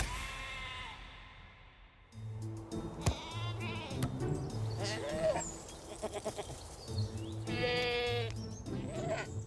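A flock of Tibetan sheep grazing in a park, several animals bleating repeatedly and overlapping, some loud and close, others farther off, over a steady outdoor background.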